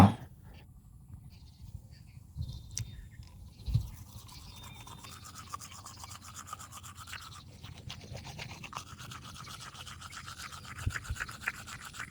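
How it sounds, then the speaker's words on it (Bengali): A toothbrush scrubs teeth up close in a steady, faint, continuous rasping rub, with a few louder bumps and no talking. "তো এই যে ব্রাশে পেস্ট নিলাম, তো এখন দাঁত ব্রাশ করব।"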